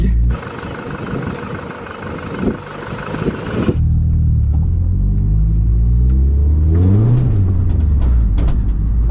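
An engine-swapped Honda Civic, driven just after its first start, gives a harsh, loud noise that cuts off, then a deep, close rumble as the engine revs and pulls with a rising and falling pitch.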